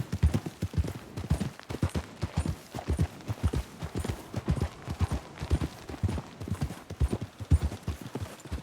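Horse hooves gallop in steady, rapid clip-clop beats throughout, close and loud, from a Western open-world video game set on horseback in the old frontier.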